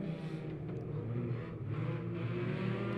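Race cars accelerate in a heat race at Lebanon Midway Speedway, a continuous droning engine roar with shifting pitch that stays moderately distant and steady throughout.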